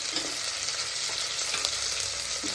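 Peanuts, potato and chickpeas fry in a pan for Maharashtrian pavta rice, producing a continuous close hiss of sizzling oil with faint stirring scrapes.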